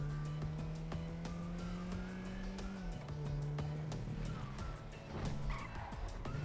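A Renault Symbol in GTA 5 drives with a steady engine drone that shifts pitch, tyre squeal and skid noise, and scattered clicks and knocks over about six seconds, with no talk.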